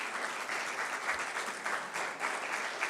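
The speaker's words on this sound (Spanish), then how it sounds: "¿Cuántos le dan una ofrenda de palmas al Señor?" A church congregation claps steadily during a worship service, a dense continuous patter of many hands with no voices over it.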